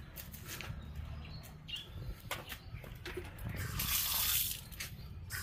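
Cold underground water pours steadily from a tap, a continuous hiss and splash that swells louder for a moment near the end, with faint bird chirps in the background and no talk.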